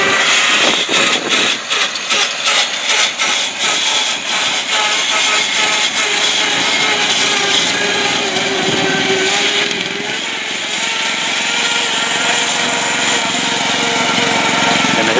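Mastercraft tractor engine driving through small mud ruts, a loud, steady, buzzing engine drone that holds for the whole stretch and rises slightly in pitch and strain toward the end.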